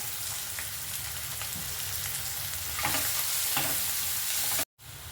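Chopped onion fries with asafoetida in a pan in a continuous close sizzle, with light taps of stirring scattered through and a brief cutout near the end.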